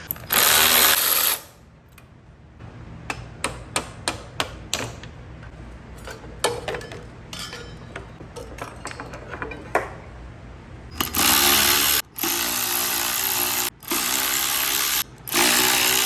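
A power tool loosens the rear sprocket bolts on a Talaria MX4 electric dirt bike, with a loud sustained whir at the start, a series of small metallic clicks in between, then three more long, loud bursts near the end.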